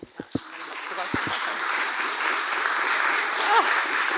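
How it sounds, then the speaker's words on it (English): A few sharp claps followed by a crowd breaking into sustained applause, with some voices mixed in. "I'll have a big round of applause for you"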